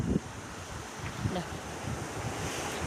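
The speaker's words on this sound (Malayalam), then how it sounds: "നല്ല കാറ്റും നല്ല ക്ലൈമറ്റും" Wind blows across an open check dam at Peringottukurissi, where the water is low in the hot dry season. It comes as a continuous rushing roar that buffets the microphone, with a few stronger gusts and no talk.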